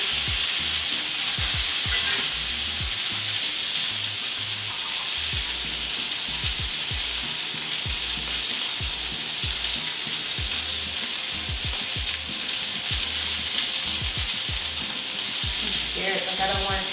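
Beef fillet sears in an extra hot pan with a loud, continuous sizzle and crackle, punctuated by scraping and shifting sounds as the meat is moved around.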